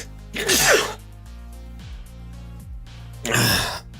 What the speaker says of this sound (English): Excuse me for the sneeze.